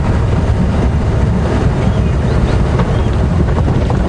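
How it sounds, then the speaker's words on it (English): Wind gusts buffet the microphone on a breezy morning during an open-vehicle safari drive at a game reserve, a constant loud low rush with no pauses. "It's breezy, it's windy."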